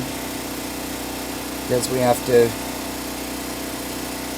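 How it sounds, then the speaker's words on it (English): A generator at a bus camp hums low and steady throughout, while a voice speaks briefly over it partway through. "Generator is humming"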